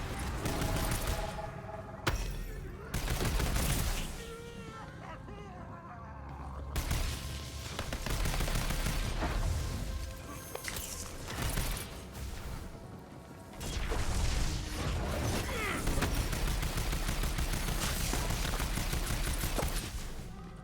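Sniper rifle fire rings out in a video game, loud cracking shots and crashing impacts over a dense, continuous wash of game noise, in bursts with brief lulls.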